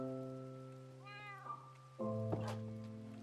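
Several cats meow in a Minecraft-style video game, a few close, clear synthetic meows over a sustained droning game tone that shifts pitch partway through.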